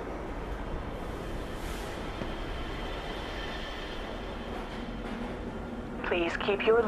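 A Black Mesa transit train from the Half-Life video game rolls along with a steady, dense rumble throughout, and a voice speaks near the end.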